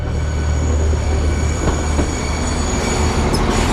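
A loud, steady rumble from a train arriving at a station in Birmingham, close by, with metallic wheel squeal and faint rhythmic clatter running throughout.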